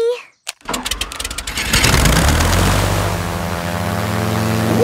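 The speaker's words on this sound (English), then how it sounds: "The toy aeroplane is doing a loop-the-loop." A cartoon toy aeroplane's engine sputters with a few quick pops, then settles into a loud, steady buzzing drone that wavers slightly as the plane loops.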